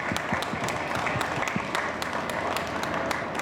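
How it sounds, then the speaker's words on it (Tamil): An audience at a comedy debate hall applauds steadily, a dense continuous wash of many hands clapping at even loudness throughout. "நம்முடைய பாராட்டை பலத்த கைத்தட்டுடன் அவர்களுக்கு தெரிவிக்க அன்போடு கேட்டுக்கொள்கிறேன்"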